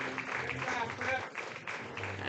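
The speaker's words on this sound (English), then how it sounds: "the crowd will give him a standing ovation on his great performance here in Game 1 of the doubleheader" A crowd at a Game 1 American Legion baseball doubleheader between Post 22 Hardhats and Post 17 Watertown Arrows applauds the departing starting pitcher, giving steady, broad clapping and cheering with a few brief dips.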